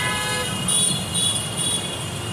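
Road traffic passes beneath a flyover under construction, a constant loud rumble with a few high horn toots in the middle.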